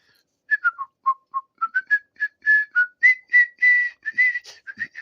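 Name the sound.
man whistling the tune Dixie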